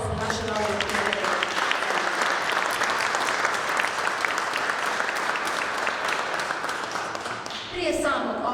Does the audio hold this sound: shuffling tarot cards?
no